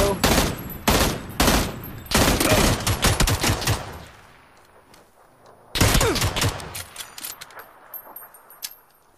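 Loud bursts of automatic gunfire in PUBG crackle in several rapid volleys separated by short pauses, with a quieter stretch before another burst and scattered single shots trailing off.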